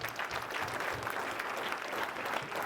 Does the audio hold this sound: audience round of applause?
yes